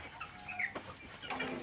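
Pet chickens clucking softly close by, a few brief, quiet clucks and chirps in a short burst.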